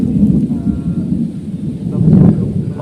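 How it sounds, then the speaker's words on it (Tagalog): Deep rolling thunder rumbles as rain approaches, a loud, low, continuous growl that swells again near the end, with no clear rainfall audible. "Maulan talaga oh. Patungo na yung ulan dito ba."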